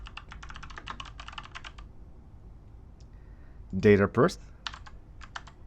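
Keys clatter in quick bursts on a computer keyboard while filling in an online college application form, with a short spoken phrase in the middle before the typing resumes briefly.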